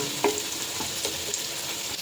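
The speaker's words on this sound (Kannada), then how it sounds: "ಈರುಳ್ಳಿ ಗೋಲ್ಡನ್ ಕಲರ್ ಆಗೋ ತನಕ ಚೆನ್ನಾಗಿ ಫ್ರೈ ಮಾಡ್ಕೊಳ್ಳಿ." Onions fry in a pan for avare kallu palav, giving a steady close hiss of sizzling oil with a few light stirring clicks over about two seconds.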